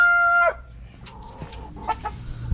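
Chickens, including an egg-laying hen, cluck close by: a loud crow-like call cuts off, then a few short scattered clucks follow.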